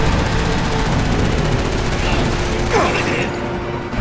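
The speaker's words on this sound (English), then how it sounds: "Okay, that's a lot of explosions." Resident Evil 6 co-op street chase, heard as a loud, continuous clatter of gunfire and explosions, with a brief whooshing sweep near the end before the din eases slightly.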